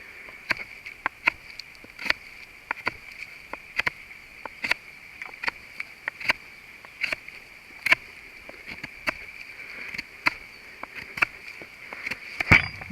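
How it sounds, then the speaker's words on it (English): A Habilis Bushtools Trapper knife shaves curls off a piece of wood in a series of short, crisp scraping strokes, roughly one every second, close and fairly quiet over a faint steady hiss. "it certainly takes off reasonable shavings of wood each time"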